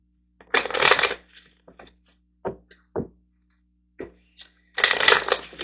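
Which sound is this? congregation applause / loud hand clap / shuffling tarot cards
shuffling tarot cards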